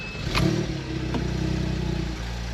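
A 2010 Porsche Boxster S 987.2 with the 3.4 flat-six and a 6-speed manual starts up with a brief crank and catch, then settles into a steady, close engine hum.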